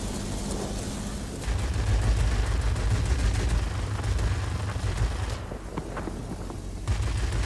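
Aircraft guns firing continuously in World of Warplanes, a steady loud rattling roar over engine drone with no break, fading briefly near the end before resuming.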